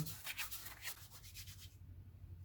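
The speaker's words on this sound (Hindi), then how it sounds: "हाफ़ टी स्पून अजवाइन को हाथ में मसल के डालेंगे" Carom seeds (ajwain) crushed and rubbed between the palms over a bowl of flour for roll samosa dough, giving a close, dry, gritty rubbing that runs in quick strokes and then fades to quiet.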